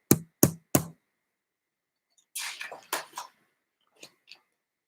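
Three sharp knocks in quick succession, then a cluster of soft tapping and rustling, and two faint taps near the end, as a duckling pecks on a cottage door.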